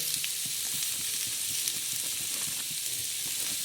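Green chilies and onions with salt sizzle and fry in a pan while being stirred, a steady close hiss broken by frequent small scraping and clicking stirring sounds.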